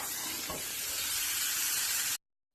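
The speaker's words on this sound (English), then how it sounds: "We're starting to lose our sizzle," A rib eye steak sizzles in a hot pan with a loud, steady hiss that runs unbroken, then cuts off abruptly near the end.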